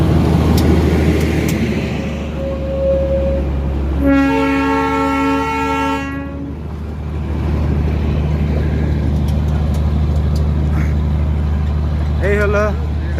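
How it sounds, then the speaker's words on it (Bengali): A diesel-hauled Darjeeling toy train arrives at Batasia Loop, its horn blaring in one long, loud blast over a steady low rumble of the engine and wagons, with people talking nearby. "বাতাসলুপের যে বিশেষ আকর্ষণ টয় ট্রেন কিন্তু আসছে এটা কিন্তু ডিজেল ইঞ্জিন"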